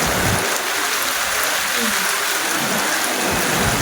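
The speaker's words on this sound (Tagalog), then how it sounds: "Pakita natin yung ulan." Heavy, steady rain pours down in a dense, continuous hiss, loud and close, with no break throughout.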